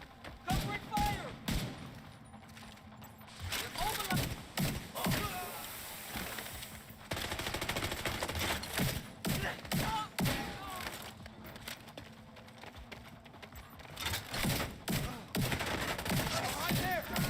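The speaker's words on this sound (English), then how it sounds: "Covering fire!" Video game gunfire from The Division 2: sustained bursts of automatic weapon fire and sharp single shots crackle almost continuously, with short pauses between volleys, loud and close in a chaotic firefight.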